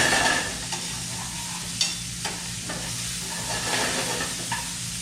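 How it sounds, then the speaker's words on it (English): Cherry tomatoes blistering in a hot pan for carbonara, a steady sizzle broken by a few sharp scrapes and clacks of stirring, close and alone. "stir it up just so the cherry tomatoes gets a little bit blistered before we introduce other ingredients to the pan"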